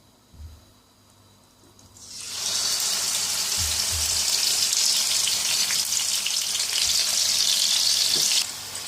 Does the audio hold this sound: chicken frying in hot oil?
yes